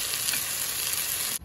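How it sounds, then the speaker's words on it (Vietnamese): Garlic and sweet potato leaves stir-frying in a hot pan give a steady, loud sizzle with no talk, cutting off abruptly near the end. "mình luộc sơ qua cái mình xào nó nhanh lắm á hả"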